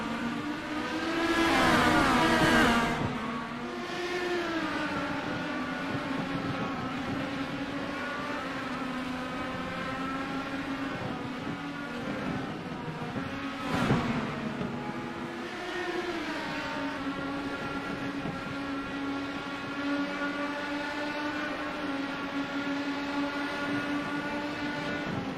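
IndyCar race cars in a racing video game at Lime Rock Park hold a steady, droning engine whine that shifts pitch as they pass, with a louder surge near the start and another midway, without talk.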